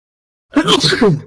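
A single sneeze bursts out up close after a moment of silence, loud and abrupt, trailing off with a short breathy tail.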